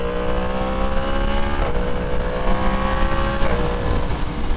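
A Yamaha MT-10 motorcycle ridden at speed in a group ride gives a steady, loud engine drone with harmonic whine, dipping briefly twice as the revs shift, wind noise underneath throughout.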